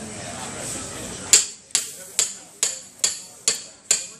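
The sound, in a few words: hammering an awl into a skid steer tire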